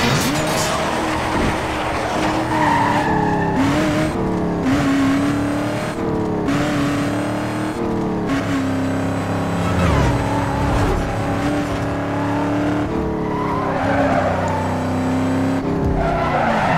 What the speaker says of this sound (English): And you can now hear the engine.